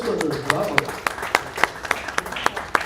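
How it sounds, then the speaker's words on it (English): Audience applause after a talk at an AI and metaverse enterprise panel, heard as a run of sharp, separate claps that rises and spikes steadily over a murmur of low voices. "Another round of applause for her."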